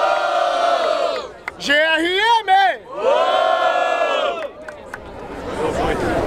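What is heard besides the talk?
crowd cheering at a rap battle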